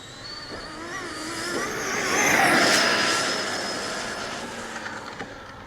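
Radio-controlled NASCAR model car with turbo boost running at full throttle, its high-pitched motor whine swelling loudly as it speeds past, then fading as it pulls away.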